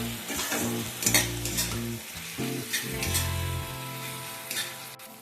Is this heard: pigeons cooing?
no